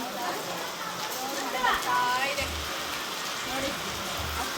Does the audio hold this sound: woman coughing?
no